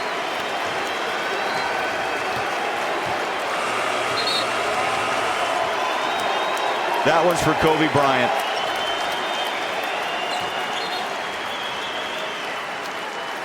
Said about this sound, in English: the chant of Kobe you can hear around the building